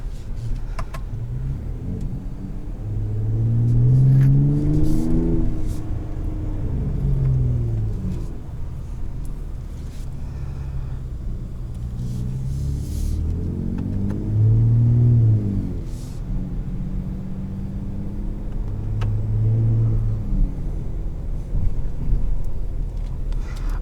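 Loud exhaust of a 2021 Ford F-150 Raptor pickup revving in repeated low, rumbling swells, each rising and falling over a few seconds, heard up close with wind noise.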